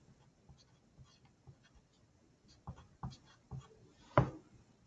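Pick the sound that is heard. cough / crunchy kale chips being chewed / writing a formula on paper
writing a formula on paper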